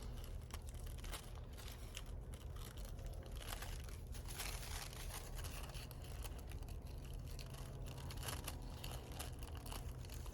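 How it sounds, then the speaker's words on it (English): Scissors cut a circular paper pattern for a junk journal, producing steady close crinkling, rustling snips with faint sticky pulling on the paper, running continuously without talk. "Again, can't cut and talk. It doesn't help that these scissors are kind of sticky. It's pulling on the paper."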